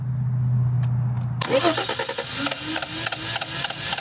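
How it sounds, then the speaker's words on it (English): A BMW E30 engine, unused for ten years, is cranked and fires up: a low steady cranking drone, then the engine catches with a loud burst and settles into a rough, uneven idle nearby. "So I'm going to try to start it one more time and see what happens."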